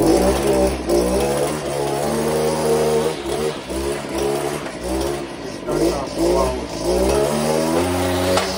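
A small two-stroke Echo string trimmer engine runs close by, its buzzing pitch wavering up and down with repeated throttle blips.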